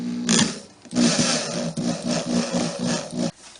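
A power drill drives 1 1/4 inch screws into the underside of a wooden seahorse table, giving several whirring, grinding bursts with short pauses between them, close and fairly loud.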